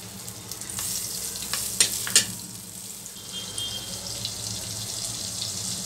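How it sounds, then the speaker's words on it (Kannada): Butter going into a hot pan for butter mushroom masala gives a steady soft sizzle with a couple of sharp clicks near the start, fairly quiet and with no voices. "ಈಗ ಚೆನ್ನಾಗಿ ಕಾದಿದೆ, ಸ್ವಲ್ಪ ಬಟರ್ ಹಾಕ್ತೀನಿ।"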